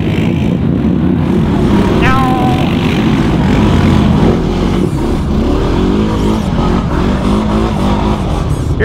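A Honda Rancher ATV engine revs and drones loudly up close while it is ridden, a constant low roar with wind buffeting and a voice briefly heard over it.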